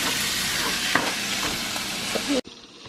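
Ground meat browns in a pan with a loud, continuous sizzle and hiss, dotted with a few stirring scrapes, before cutting off abruptly near the end.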